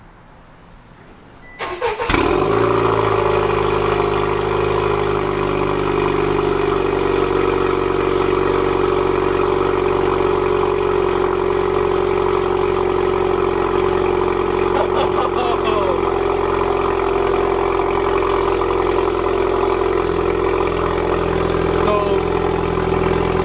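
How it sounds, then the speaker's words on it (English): A Honda car fitted with a new RV6 catted downpipe cold-starts with a sharp crank and catch, then settles into a loud, steady, raspy idle that continues to the end. "First startup, cold start with the new downpipe."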